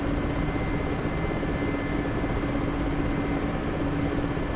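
A Mi-8 helicopter engine in the DCS flight simulator gives a steady, loud, unbroken turbine and rotor drone that holds an even level from start to finish.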